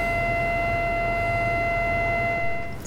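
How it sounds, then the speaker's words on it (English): A siren sounded out in a drought-hit pasture to call cattle holds a steady, sustained tone that never wavers and fades slightly at the end, with no talking over it. "So Cody, prime example of why you have a siren."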